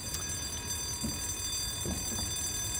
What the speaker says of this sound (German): der Alarm läutet und niemand macht es einfach aus